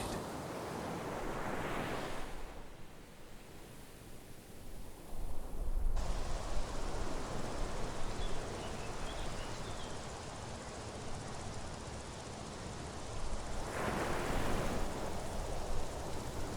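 Ocean waves wash in by a seaside cottage, a steady broadband surf with swells rising and falling, some wind noise on the microphone, no voices.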